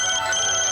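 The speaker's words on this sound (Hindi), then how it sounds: "लगता है उसी का फोन है।" A telephone rings with a steady, bright electronic tone that holds through the whole short stretch, fairly loud and close, with no talking over it, in a Hindi romantic film scene.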